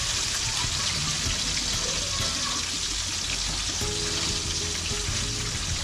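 Dense, continuous crackling sizzle of fish frying in hot oil in a small home cooking pot, loud and close, with faint background sounds.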